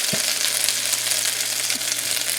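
Chicken fried rice sizzles steadily in a hot pan, a dense, continuous hiss with faint scraping, close and loud with no talk.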